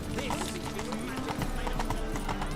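Hooves of Roach, Geralt's horse in The Witcher 3, clip-clopping in a steady walking rhythm on a town street, with brief voices and background chatter mixed in.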